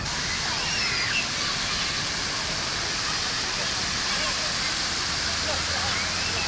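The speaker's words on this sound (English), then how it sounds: "Two sweet towers of water falling down from them if you want to cool off." Steady, dense splashing roar of water pouring down from the tall fountain towers in Millennium Park, Chicago, loud and continuous throughout, close by on a hot day.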